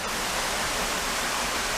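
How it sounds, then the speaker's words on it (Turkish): A waterfall roars nearby, a loud, constant rush of falling water with no other sounds. "İlk şelale"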